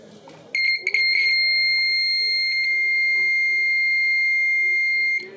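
A steady, loud electronic buzzer alarm sounds continuously for several seconds after a brief clatter, holding a high, piercing tone.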